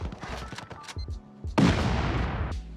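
Explosive blasts from C4 charges thrown at a player base in the survival game Rust, a burst of sharp booms and thuds with a loud, sustained crash after a brief lull.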